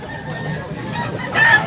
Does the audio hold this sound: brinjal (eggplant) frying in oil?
no